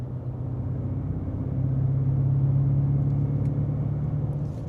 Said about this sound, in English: We'll demonstrate how that sounds, difference with the valves closed and open while climbing.